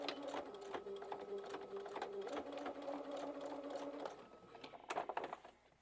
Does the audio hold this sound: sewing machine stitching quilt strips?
yes